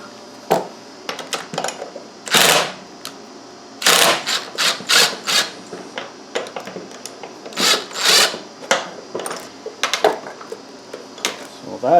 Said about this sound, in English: take a 1/2-inch wrench and socket to loosen up the tension, which is that pulley there